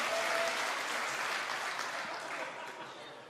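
A live audience at a StarCraft 2 tournament semifinal applauding in a dense, continuous wash of clapping that slowly fades over a few seconds.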